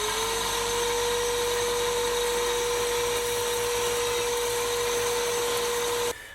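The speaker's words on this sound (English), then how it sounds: "If you are going to use a bench sander, go slow so you don't dig in somewhere and make a big oops." A bench sander shapes the handle of an Osage orange wood bow, running as a loud, steady whine with a constant hum that cuts off sharply near the end.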